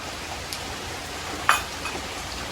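Steady rain falls outdoors as a soft, even hiss that fills the whole stretch, with one brief sharper clatter partway through and no voices.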